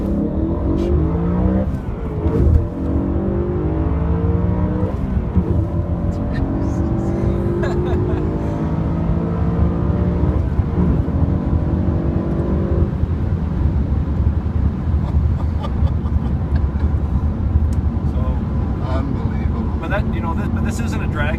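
BMW E90 M3 engine droning and revving steadily from inside the cabin on a ride, with rising and falling harmonic sweeps throughout while people talk over it.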